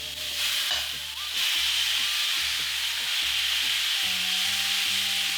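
Beef and vegetables fry in olive oil on a very hot cast iron pan, giving a loud, continuous broadband sizzle that intensifies after the first second, with low background music underneath.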